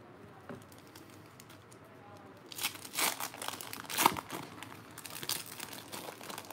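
Plastic wrappers of 2018 Panini Hoops basketball trading card packs crinkle and tear in irregular bursts as they are opened, growing louder after a quieter start, close to the microphone.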